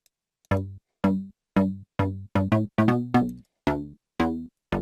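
A synthesizer plays a series of short, punchy house bass notes in a steady rhythm without ring modulation, each note sharply attacked and quickly cut off, with no voices.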